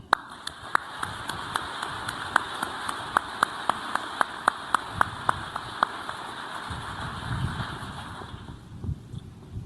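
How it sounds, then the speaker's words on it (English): Crowd applause at a military change of command ceremony for U.S. Indo-Pacific Command, a steady wash of many hands with sharper individual claps ticking through it at a regular pace, fading somewhat toward the end. "Let's have a round of applause for Indo-Pacom."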